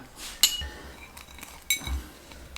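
Hot balut eggs are tapped and cracked open at a Filipino shop in Italy, giving two sharp, close clicks of breaking shell with faint handling in between and no talking.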